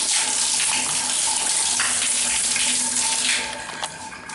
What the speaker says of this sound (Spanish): ducha funcionando correctamente, jabonera en buen estado, procedemos a cerrar la ducha